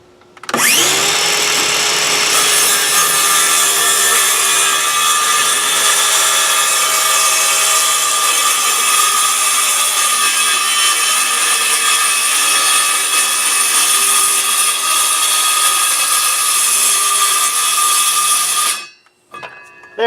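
A power saw making a plunge cut into the wooden gable of a shed, a loud, steady high-pitched whine with a rough cutting rasp that runs continuously for most of the time, close up, then winds down near the end, with no talking.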